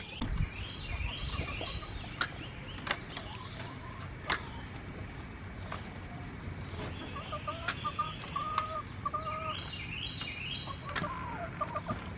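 Hens cluck and squawk in scattered bursts, close and fairly faint, as a flock is let out on a farm, with sharp knocks and rattles in between.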